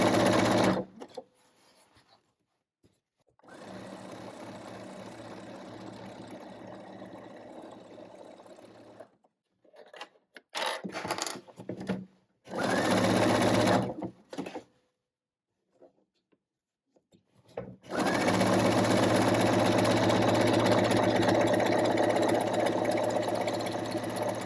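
Sewing machine zigzag-stitching elastic onto a women's pyjama: several steady mechanical whirring runs of stitching broken by pauses, with a long continuous stretch at the end, fairly close and alone.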